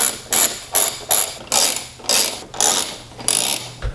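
Ratchet wrench loosening Ninja Star bolts under the hood of an E92 BMW 335i, heard as about seven close, rapid clicking bursts in a steady rhythm with short pauses between.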